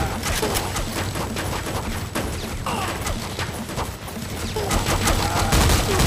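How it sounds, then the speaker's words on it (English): Video-game gunfire in a Foreign Legion Buckets of Blood match: dense, loud volleys of shots crackle almost without pause, with sharp bursts stacking on each other throughout. "I don't even know who the hell is shooting me anymore."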